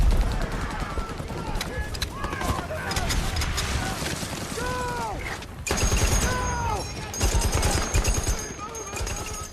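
Rapid gunfire bursts crackle through a dense war-film battle scene, mixed with shouting voices, explosions and chaotic background noise at a loud level.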